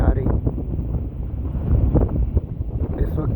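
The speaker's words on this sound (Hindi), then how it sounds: "इस वक्त यहाँ पर बहुत तेज़ हवा चल रही है।" Strong wind blows hard on a mountainside, buffeting the microphone in a loud, continuous low rumble with gusty surges throughout.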